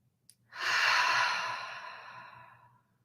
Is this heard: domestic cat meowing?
no